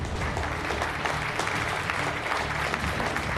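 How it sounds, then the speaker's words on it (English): A full audience claps warmly and continuously for winners at a real estate and business excellence awards ceremony, dense even applause filling the hall without a break. "can we have a huge round of applause for all the winners?"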